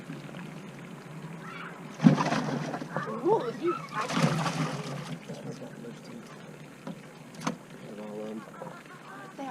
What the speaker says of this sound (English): he splashed me up in the face